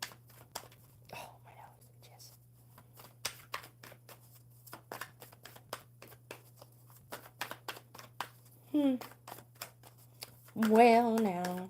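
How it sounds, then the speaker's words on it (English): Playing cards being shuffled at a coffee-and-cards gathering, heard as rapid, irregular papery snaps and riffles up close, followed by a brief voice and then talking. "One more good shuffle for Anthony"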